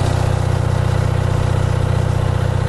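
An Onan 5 kW dual-fuel self-contained three-phase generator runs loud and close with a small muffler, its engine droning in an even, pulsing rhythm throughout.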